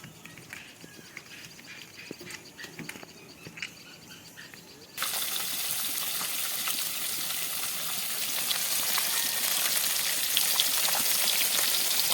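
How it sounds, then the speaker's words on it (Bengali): Steady rain begins abruptly partway through, a dense hiss of drops on surfaces during the monsoon season that continues loud and constant to the end, with scattered clicks before it starts. "আর এর মধ্যে দেখো বৃষ্টিও শুরু হয়ে গেছে"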